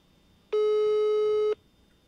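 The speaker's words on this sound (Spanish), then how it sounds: "Ahí está sonando el teléfono también." A telephone line on a radio call-in show gives one steady electronic tone lasting about a second, sharp on and off, loud against a quiet background.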